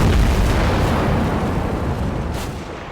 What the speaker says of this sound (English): As a result, the mortars just keep falling.